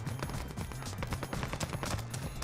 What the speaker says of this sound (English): Oh, I hear shots everywhere right now.